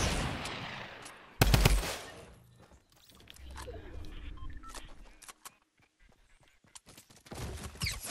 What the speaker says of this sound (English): now I'm getting shot at